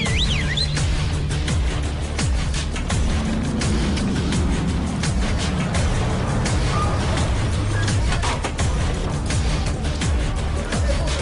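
Two big 4x4s tear in fast with handbrake skids in an action scene from Banlieue 13: Ultimatum, a dense, loud wash of engine roar and tyre noise mixed with soundtrack that runs steadily throughout.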